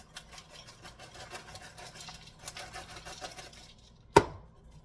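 Onions being chopped on a board, a steady run of quick knife strikes for about four seconds, then a single louder knock before it falls quiet.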